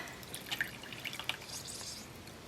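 Lime juice for a keto saketini drips into a cocktail shaker, several light, quick drips and small splashes over a quiet background with no voices.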